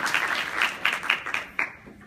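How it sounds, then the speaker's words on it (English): Applause from a fashion show audience breaks into a few separate, loud claps that thin out and fade within about two seconds. "Let's give Heidi Aiken a round of applause."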